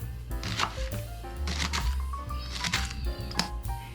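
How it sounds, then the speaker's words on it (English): Onions chopped with a knife on a cutting board, a steady run of close, crisp knife taps with some music playing underneath. "Once you're done cutting your onions, scoop them up and put them in your bowl"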